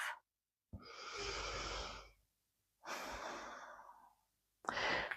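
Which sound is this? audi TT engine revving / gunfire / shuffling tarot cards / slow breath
slow breath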